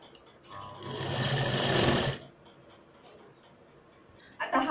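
Sewing machine stitching a salwar seam, a single fast whirring burst of about a second that stops abruptly, followed by quiet handling clicks and a brief rustle at the end.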